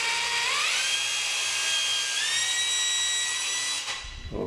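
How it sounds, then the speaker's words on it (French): An electric drill whines steadily, its pitch rising twice as it bores holes in a bathroom wall to fit a bathtub screen, then cuts off abruptly with a brief clatter at the end. "Je reprends ma perceuse et je finis mon percement de mes fils."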